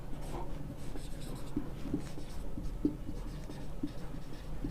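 Pen scratching across paper in a physics classroom, a continuous close scribbling with small rhythmic ticks as letters are formed, steady and fairly quiet with no talk over it.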